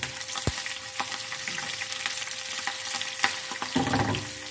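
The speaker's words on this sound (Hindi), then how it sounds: "जीरा और प्याज को फ्राई कर लेते हैं।" Cumin and onion frying in hot oil for a tadka for moong dal, a steady soft sizzle running throughout with a brief stir at the end.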